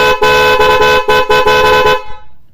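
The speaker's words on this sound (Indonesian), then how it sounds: "Ini bagus sekali dipasang di motor ataupun mobil pakai klakson Plosser ini." Loud Plosser stereo horn on a car, blasting in several short, closely spaced honks and then cutting off abruptly, recorded at close range with no talking.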